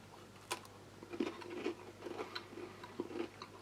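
Quiet crunchy bites and chewing of a chocolate chip cookie from a military ration pack, a few crisp cracks followed by soft rhythmic munching, close up with no talking.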